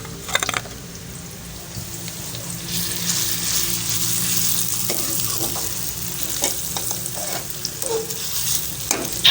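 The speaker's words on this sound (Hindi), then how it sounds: "प्याज को अच्छी तरह भून लें, घी में ब्राउन कर लें।" Onions fry in ghee with a steady close sizzle that swells after a few seconds, broken by stirring scrapes and light clicks of a spoon against the pot.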